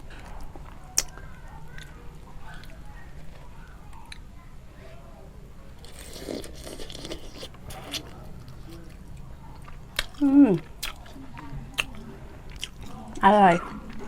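Someone eating Lao papaya salad made with wide noodles, Luang Prabang style, with soft close chewing and a few louder wet bites among quiet background noise.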